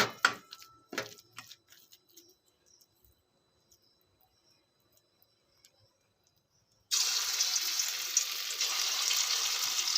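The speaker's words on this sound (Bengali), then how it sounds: "এবার আমি বড়া বা পকোড়ার শেপে এগুলো ভেজে নেব।" Coconut fritters shaped like pakoras frying in hot white oil in a kadai over a low to medium flame, a steady broadband sizzle starting abruptly partway through after quiet scattered ticks and clatter.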